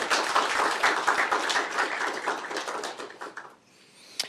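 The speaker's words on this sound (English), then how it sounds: "Let's give a round of applause to our speakers today." A lecture audience at a Stanford CS25 Transformers seminar applauds its speakers with dense, fairly close clapping that holds for about three seconds, then thins and fades to near silence.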